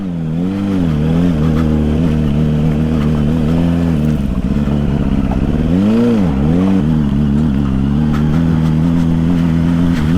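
A Suzuki GSR600 superbike cruises along an open road on a long ride, its engine a steady, loud mid-pitched drone that rises and falls as the revs change, with wind rushing over it throughout.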